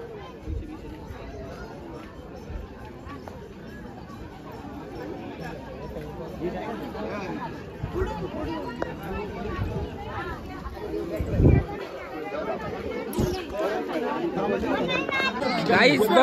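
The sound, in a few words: crowd of people gathered for the Mahaprasad feast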